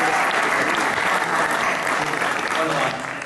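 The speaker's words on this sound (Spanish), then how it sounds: "un aplauso para Íñigo y un agradecimiento para Íñigo" Audience applauding Íñigo at a club history presentation, a steady, dense round of clapping at moderate loudness that tapers slightly toward the end, with no talk over it.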